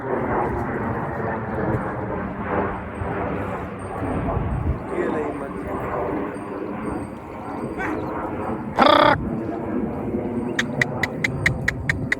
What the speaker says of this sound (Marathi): गया गया विमान गया